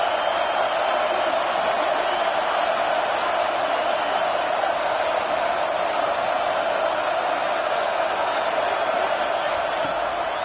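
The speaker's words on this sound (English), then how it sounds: "Here comes this home crowd as the defense tries to get off the field on third down." A home football crowd at a Minnesota–Tennessee game roars as the defense faces third down, a sustained, dense wall of cheering and shouting that stays loud and even throughout.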